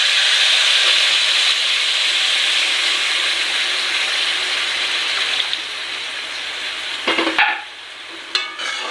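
Hot water poured into red amaranth frying in a pan sends up a loud, steady hiss of sizzle and steam that fades toward the end, broken by a few stirring scrapes.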